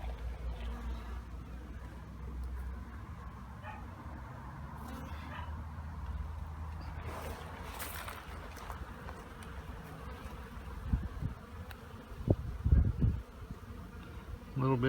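Honeybees buzz in a steady, moderately loud drone around an open 8-frame medium hive during a spring inspection, with a few louder handling knocks near the end.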